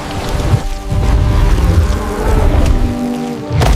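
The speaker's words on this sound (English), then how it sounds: "But even kings must bow to the storm. Rain is a deadly weight for them." A rain storm rumbles and hisses as a loud, dense wash of falling rain with deep thundery booms swelling and dipping throughout, with no talk.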